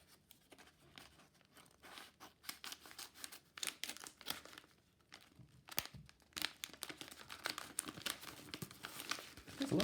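Paper envelope holding coins bought online is torn open and handled up close, giving irregular crinkling and rustling bursts that grow busier and louder toward the end, with no talking.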